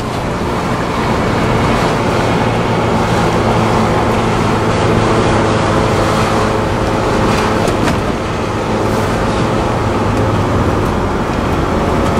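A 1999 Mitsubishi Eclipse GSX on the move, its steady engine drone and road roar filling the cabin as a loud, constant rumble with no pauses.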